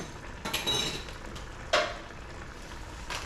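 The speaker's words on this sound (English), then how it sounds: "mix the mash in there until I get a really nice thick consistency" A spoon scrapes and clinks against a dish while stirring mash for stuffed bell peppers, with a few scattered light knocks and one sharper clink partway through, fairly quiet and with no talking.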